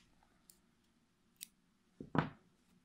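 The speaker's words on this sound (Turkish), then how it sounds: "Bir tane zincirimi çektikten sonra buradan ipimi kesiyorum." Scissors snip through crochet yarn after a chain stitch, one sharp close cut with a couple of faint clicks before it, in an otherwise quiet room.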